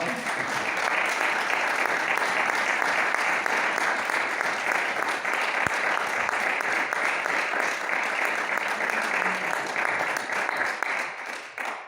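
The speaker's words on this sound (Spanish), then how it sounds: "Bueno, aplaudamos otra vez" Audience at a talk in Oviedo applauding again, a steady, even burst of many hands clapping that stays consistent for several seconds and then tapers off at the end.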